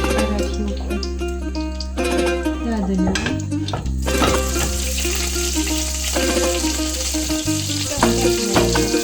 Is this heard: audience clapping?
no